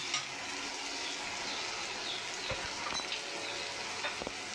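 Ginger fries in very hot oil in a wok: a soft, steady, continuous sizzle with faint stirring scrapes, close but quiet, with no voices.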